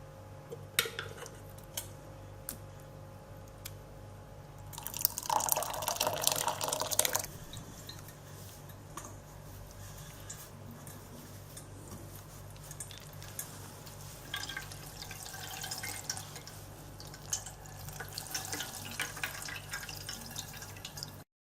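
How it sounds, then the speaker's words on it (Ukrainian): Apple mash, spooned into pharmacy gauze, is squeezed by hand for juice, with soft dripping and trickling into a container, a louder burst of splashing and clatter midway, then scattered drips and quiet handling sounds, close and without talk. "Сюди буду накладати е, ложкою е, суміш, а потім буду видушувати."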